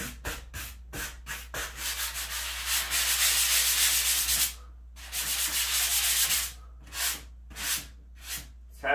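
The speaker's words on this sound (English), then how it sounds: "It's had some time to dry, so I'm just doing some sanding." Abrasive sanding against a textured wall finish in repeated back-and-forth strokes, a few quick rubs, a longer steady stretch, then more short passes.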